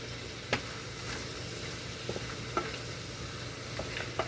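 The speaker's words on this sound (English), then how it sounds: "I'm going to stir a little bit" Shrimp scampi stirred in a pan, a steady close sizzle broken by a few sharp utensil scrapes and taps, with no talk.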